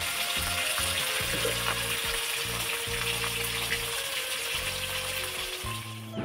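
Fish frying in oil in a kadai gives a steady, loud sizzle with faint watery crackle, continuous throughout with a few low thumps underneath.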